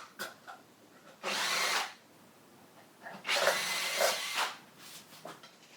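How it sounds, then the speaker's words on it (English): A power drill clear-drilling rivet holes in metal for Sling TSi aircraft seats, whirring in two short bursts, close and moderately loud, with quiet handling noise around them. "I guess you can watch me clear drill a little bit."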